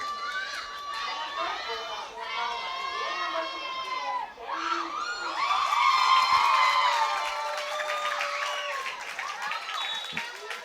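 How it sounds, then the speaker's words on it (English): Spectators at a 2016 Men's Hockey World League Round 1 match between Singapore and Thailand applaud and cheer a goal, with sustained shouting and whooping from a crowd that swells midway, while a commentator talks over it. "even the Thai coaching staff from the women's team and the women are up applauding that one"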